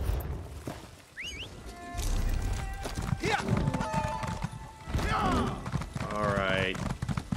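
Horses in the video game Elder Scrolls Online: hooves clip-clop steadily while a horse whinnies loudly near the end, with someone talking over much of it.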